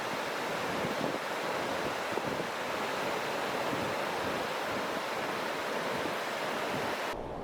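Blustery wind and crashing surf at Steetley Pier in Hartlepool on a stormy day, a steady broad roar of waves and gusts buffeting the microphone with no break throughout.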